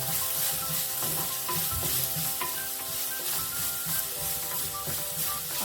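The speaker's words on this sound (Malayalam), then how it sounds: "ഇഞ്ചി നന്നായി ഒന്ന് വഴറ്റിയെടുക്കണം" Chopped ginger is sautéed in a pan for Kerala-style puli inji, making a dense, steady sizzle close up with occasional stirring scrapes and no voices.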